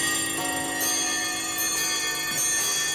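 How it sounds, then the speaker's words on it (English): Bells ring steadily with sustained metallic tones and a faint ticking clock-like rhythm, continuous and fairly loud throughout, with no voices. "Oh, those dreaded bells,"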